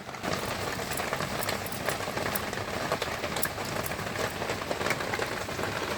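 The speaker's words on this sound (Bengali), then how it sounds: "এত জোরে বৃষ্টি হচ্ছে পুরো রান্নাঘর আমাদের ভিজেই গেছে" Heavy rain pours down steadily and loudly onto surfaces around a kitchen, a dense, constant hiss with scattered sharper drops throughout and no talking.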